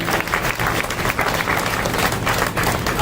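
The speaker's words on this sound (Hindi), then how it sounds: "तालियां आपने बजाई।" Audience applause at a political address to representatives of a Punjabi community, steady dense clapping that continues evenly throughout with no pauses.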